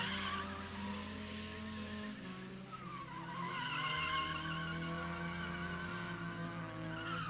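A Mazda Miata drifts at an evening stunt show, its tires squealing in long, wavering screeches over a droning engine heard from a moderate distance.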